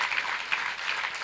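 Brief, fairly faint burst of audience clapping for a revered swami at a religious katha gathering, a steady wash of hands with no talk.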